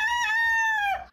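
A rooster crows once, loud and close, a single sustained cock-a-doodle-doo call that trails off near the end, heard alone outdoors.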